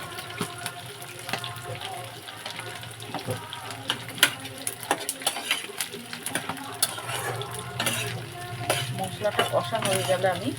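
Spice paste for a vegetarian and fish curry frying in a pan, a steady sizzle with scraping stir strokes throughout, close and fairly loud, with running tap water in the background and no talk.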